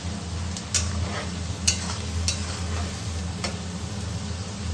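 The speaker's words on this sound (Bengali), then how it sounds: "এই দেখুন দুটোই ভাজা হয়ে যাক, তারপরে বাকি মশলা দেবো।" Onion and capsicum fry in a pan for egg chilli, a constant low sizzle broken by a few sharp clicks and taps of a spatula stirring against the pan.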